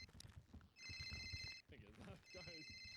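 A telephone rings in GTA RP, the multiplayer role-play game, with two bursts of steady electronic trilling separated by a short gap, heard under ongoing voices and background game noise.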